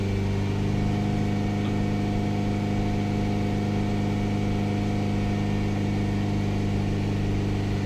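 A Ford Transit minibus diesel engine with a DPF fault idles steadily and loudly, a constant even drone with no talking.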